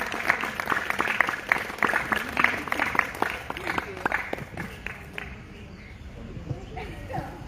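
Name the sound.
applause for Mona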